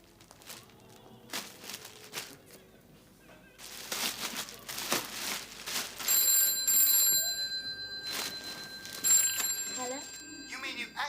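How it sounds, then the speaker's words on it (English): A telephone rings indoors with repeated electronic ring tones in the second half, moderately loud, while people talk and move about nearby. "We can't hear the phone ring up here."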